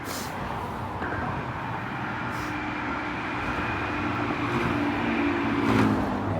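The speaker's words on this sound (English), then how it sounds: "The oncoming traffic right next to us." Oncoming road traffic passing right next to a roadside spot, a steady broadband rush of vehicles with a swell near the end, moderately loud and without talk.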